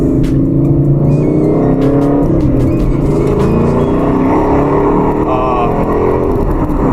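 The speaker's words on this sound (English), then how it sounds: "this one's like a dead stop, turning immediately, and then freeway full pull" A Ford Mustang with a Corsa exhaust pulls hard and steady under full throttle on a freeway, a loud throaty exhaust drone rising continuously, with road noise throughout.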